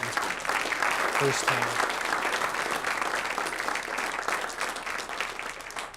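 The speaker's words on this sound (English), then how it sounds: "give our sources that spoke a round of applause" Sustained applause from an indoor audience at a magazine launch event, dense steady clapping that tapers slightly toward the end, with a brief voice underneath.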